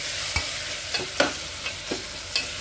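Tomatoes sautéing in a pan for a soya chunk biryani, a steady low sizzle with several sharp scrapes and knocks of a stirring spoon against the pan at irregular intervals.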